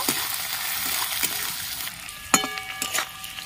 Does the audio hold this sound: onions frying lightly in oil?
yes